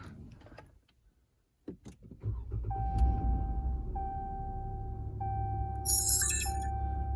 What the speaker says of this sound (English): well, I'll start the engine